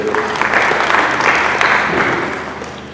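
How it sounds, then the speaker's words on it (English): A church congregation claps hands together, a loud, dense burst of applause that holds steady, then gradually thins and fades toward the end. "Let us clap hands for them."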